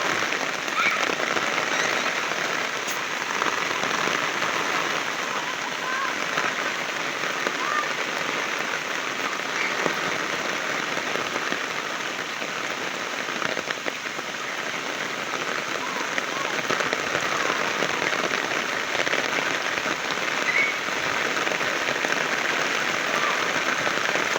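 Heavy rain pours steadily, a dense, constant hiss of water drumming on surfaces throughout, with no voices.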